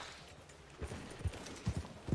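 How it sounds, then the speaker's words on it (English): Horse hooves clip-clopping on the ground in the video game Red Dead Redemption II, a quiet, uneven run of soft thuds picking up pace over low background ambience. "Wait, get back on your horse, Arthur."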